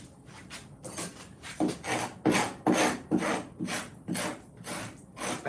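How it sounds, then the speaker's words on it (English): Rasping, scraping strokes of flesh being scraped off skin, a run of about a dozen short, rough bursts in an uneven rhythm, close and fairly loud with no talk. "this is kind of a fun noise. Scraping of flesh off fucking skin."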